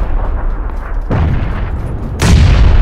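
Heavy booming blasts from grenades falling from the sky in PUBG land in two loud, close bursts. A steady din of battle noise fills the gaps between them.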